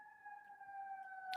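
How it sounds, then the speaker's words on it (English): A faint ambulance siren sounds outdoors at a distance, holding two steady high tones throughout with no clear rise or fall, and no talking over it. "there's an ambulance again"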